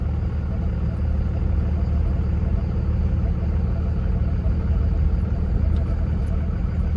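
A truck idles slowly through snowy ruts on the way to a winter motorcycle camp, its engine a steady low rumble that stays close and even throughout with no voices.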